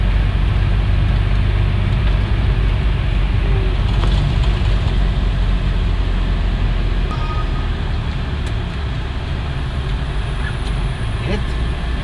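Low idling car engine hum heard from inside the vehicle with the air conditioning running on a hot day, a steady close drone lasting the whole stretch with faint scattered clicks and no one talking.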